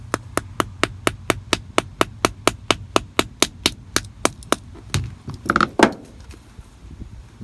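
A 7mm Phillips screwdriver is tapped into the split end of a razor blade while wiring the ignition for an LS swap. About twenty quick, sharp metallic taps come in a steady rhythm, followed by a short clattering rustle, all close and clear.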